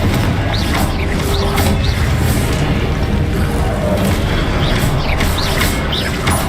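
A Confringo blasting spell explodes in Hogwarts Legacy as loud, dense booming and crashing that runs continuously, with repeated impact bursts layered over a constant roar.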